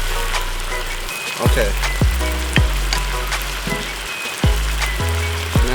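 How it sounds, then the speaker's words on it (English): Gravy for a beef stir fry noodle dish bubbling in a pan: a dense, steady sizzling hiss with scattered pops, close and loud, plus a few low thuds and a brief spoken word. "see how the gravy's in there is all boiling nicely"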